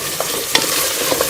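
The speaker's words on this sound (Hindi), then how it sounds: "दही को अच्छी तरह से हम भून लेंगे, घी अलग होने तक हम इसे अच्छी तरह से भून लेंगे।" Yogurt frying in ghee for beef korma, a loud close hiss of sizzling with a few sharp scraping stirs over about a second.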